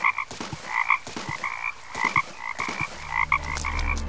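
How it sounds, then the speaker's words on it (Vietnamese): Several frogs croaking in an animated cartoon, with rapid, repeated croaks close and clear and no talking over them. "chẳng thấy hôm nào không nghe thấy nhà ếch chí chóe với nhau"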